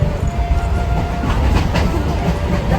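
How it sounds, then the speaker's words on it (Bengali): A moving passenger train rumbles loudly and steadily, with faint rhythmic rail clatter underneath and no clear voices. "দেখো আমরা কিন্তু ট্রেনে উঠেছি অনেকক্ষণ"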